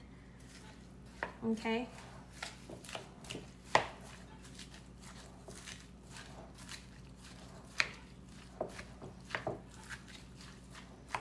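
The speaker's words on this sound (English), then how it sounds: "now we're gonna mix everything together in here" Chicken salad with lettuce being mixed together in a bowl, heard as a run of sharp, uneven clacks and scrapes of utensils against the bowl, with a brief word spoken.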